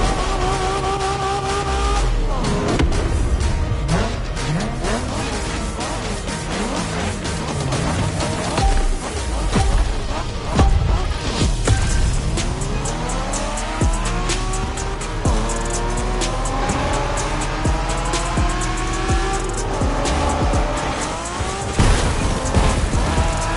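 Cars race through The Crew Motorfest video game on PS4, with loud, continuous engine roar, rising and falling revs and repeated tyre squeals as they corner, with no talk over it.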